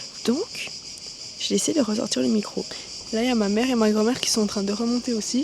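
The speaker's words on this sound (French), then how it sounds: "y a les cigales qui chantent toute la journée" Cicadas drone with a steady, high, buzzing chirr through a hot summer day outdoors. Someone talks over the constant insect noise.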